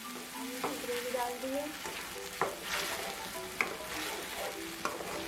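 Gravy added to fried onion and garlic in a pan sizzles softly while a spoon stirs with scattered clinks and scrapes, a brief voice speaking near the start.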